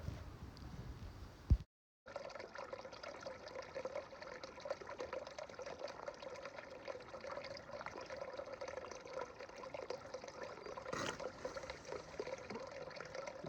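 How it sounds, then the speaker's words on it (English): A hand-operated water filter pump fills a CamelBak hydration bladder on the Appalachian Trail in New England, giving a steady, close trickle and gurgle of water that runs continuously after a brief pause near the start. "the pump can take anywhere from 150 to 200 pumps to fill my camelback and my 1 liter"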